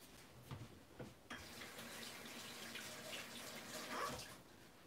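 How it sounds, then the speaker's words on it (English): Water running from a kitchen tap while hands are washed underneath, a steady close splashing rush with a few louder splatters as the hands move through the stream. "Let me wash my hands."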